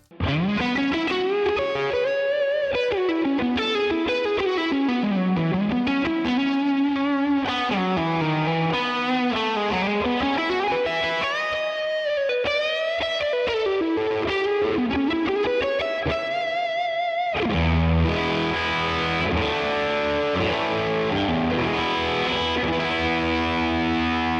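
Overdriven electric guitar played solo with a long, washy reverb tail, bending melodic lines giving way to thick sustained chords near the end.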